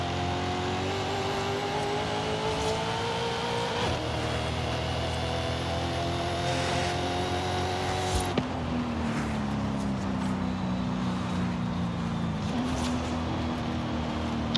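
A 2000 Nissan Silvia drag-tuned car with around 1,000 horsepower in Forza Horizon 5, its engine droning at a steady pitch with a couple of sudden drops as gears shift, close and continuous.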